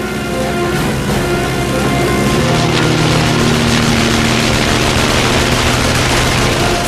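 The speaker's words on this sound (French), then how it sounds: "En pétaradant, le moteur de ce dernier repart." A World War I fighter plane's engine sputters and catches again in a dense, continuous roar mixed with rattling bursts like gunfire, loud and unbroken throughout.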